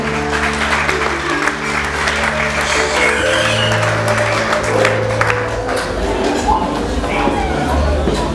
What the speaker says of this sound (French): Est-ce qu'on peut acclamer le Seigneur pour son amour?